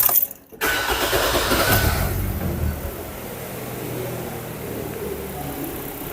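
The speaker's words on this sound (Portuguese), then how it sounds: "Vou dar partida no veículo." A car engine cranks briefly after a short silence, catches, and settles into a steady, fairly loud idle close by.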